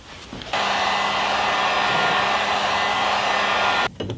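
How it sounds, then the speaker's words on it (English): A heat gun blows hot air over a glued plastic quarter panel trim piece on an off-road vehicle, a loud, steady whooshing roar that starts abruptly and cuts off after about three seconds, with no talking. "So I think I will use my heat gun."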